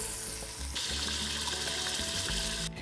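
Tomato sauce pours steadily into a pot of spaghetti marinara, a continuous wet splashing and hissing pour with a faint background hum, no voices.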